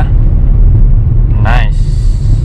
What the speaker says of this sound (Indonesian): Ini gigi 2, over ke gigi 3.